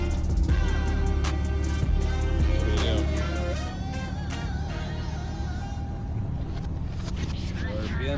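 A Four Winns boat engine cranks from cold and settles into a steady, loud running drone, with voices talking over it throughout.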